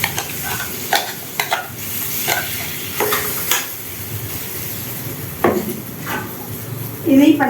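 Ground masala paste sizzles in a hot pan with cumin while a spoon stirs it, giving repeated scraping clatters against the metal over a constant frying hiss, fairly close and with no voices.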